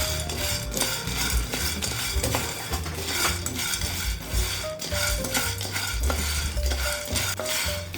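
Native black chickpeas dry roasting in a pan over a medium flame, stirred with a steady scraping rattle and scattered clicks of hard kernels against metal; close, continuous, no talking.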